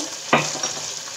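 Nellore-style fish curry with turmeric sizzles steadily in a pan, with a single sharp stirring scrape near the start, close and fairly loud without any talk.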